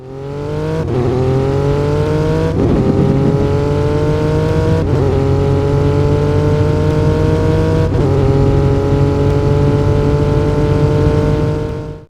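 A RUF CTR3 sports car in a Roblox driving game revs steadily and loudly, its engine pitch climbing through gear after gear with brief dips at each shift, the sound continuous and close with no talking.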